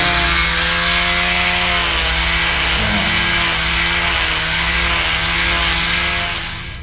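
A loud, steady whirring power sander smoothing wood for a bucksaw drones continuously at close range, with a constant buzzing hum that fades slightly at the end.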